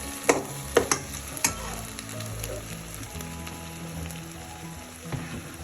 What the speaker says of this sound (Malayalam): ഇവയെല്ലാം നന്നായി വഴറ്റിയെടുക്കും ഉള്ളിയൊക്കെ നല്ലതുപോലെ വഴഞ്ഞിട്ടുണ്ട്